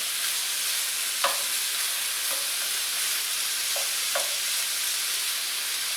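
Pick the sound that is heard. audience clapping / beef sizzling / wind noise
beef sizzling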